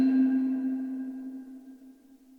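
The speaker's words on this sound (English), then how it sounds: "Number 6, Celesta or Celesta." A single sustained celesta-stop note from a Cantorum Duo organ rings out bright and bell-like, then fades slowly over a couple of seconds, heard alone.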